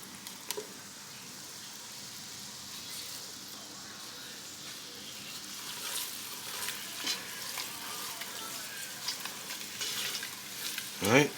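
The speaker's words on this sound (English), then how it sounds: "The constant mixing ensures that you don't have any lumps." A flour roux stirred steadily in a pan over low heat for a Louisiana dish, giving a continuous soft frying sizzle with faint scraping strokes, close and alone, ending in a brief louder clatter.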